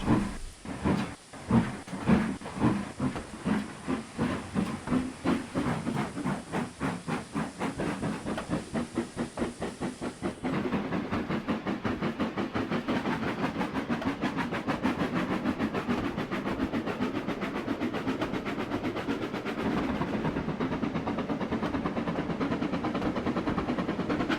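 A steam locomotive pulls away from rest with loud, rhythmic chuffs that start slow and widely spaced, then quicken into a steady, fast beat as it runs on with continuous hiss and rumble.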